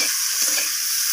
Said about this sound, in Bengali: এরপর সমস্ত মশলা আর আদাটাকে দিয়ে আমি এইভাবে সবজির সাথে নাড়াচাড়া করে নিচ্ছি